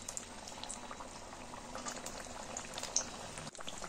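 Kachoris of flour-based khasta dough frying in hot oil, a dense, steady bubbling sizzle with crackling pops that holds evenly throughout, close and moderately loud with no talking.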